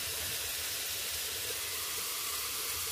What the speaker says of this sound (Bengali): এবার আমি জিরা বাটাটা আর মশলাগুলো সব একসাথে ভালোভাবে কষিয়ে নিচ্ছি।